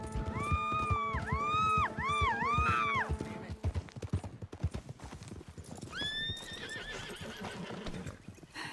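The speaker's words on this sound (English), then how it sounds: "Get me off this horse!" Horse hooves clip-clop in a steady rapid rhythm in Red Dead Redemption 2, with a loud neigh over the hoofbeats early on and another whinny later.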